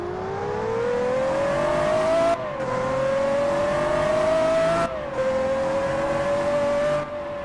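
Rare car in a Roblox-style driving game revving hard in steady pulls, its engine tone climbing through three gear shifts with brief cuts between, loud and close with no talk.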